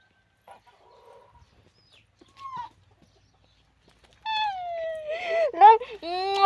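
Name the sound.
hens clucking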